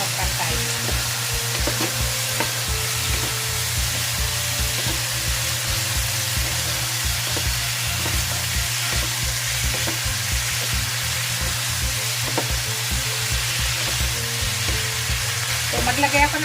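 Boneless chicken and broccoli are stirred together in a hot pan. The dish gives a continuous loud sizzle and frying hiss, with steady scraping and stirring throughout.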